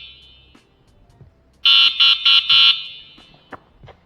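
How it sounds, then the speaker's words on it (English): Electric horn of a Geofought G14 scooter sounding in four loud, shrill, buzzing blasts, one long and three short bursts, close up in an otherwise quiet space. "One thing that threw me off was this horn. This horn is loud as heck."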